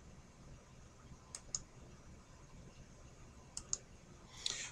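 Quiet mouse clicks sound in a calm room, a close double click, then another pair, then a final click, each sharp and brief over faint background hiss.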